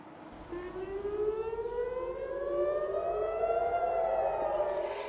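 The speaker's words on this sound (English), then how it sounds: "The Israeli air raid siren in my residential neighborhood on the outskirts of Tel Aviv woke me" An Israeli air raid siren wails in the distance over a residential neighborhood on the outskirts of Tel Aviv, its tone slowly rising and holding in a long, steady sweep over quiet surroundings.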